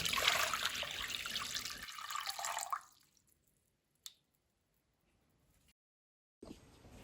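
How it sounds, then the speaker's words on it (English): Three cups of water pour and splash into a pot on a stovetop for a few seconds, then stop; a single drip-like click follows before a brief noise returns at the end. "On the stovetop on high heat, we're going to start by adding 3 cups of water"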